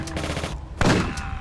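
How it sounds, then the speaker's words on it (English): A combat shotgun fires in the video game Tomb Raider. A rapid burst of shots comes first, then a single heavier blast follows close by, loud and sharp. "time to bring out the heavy guns. The combat shotgun."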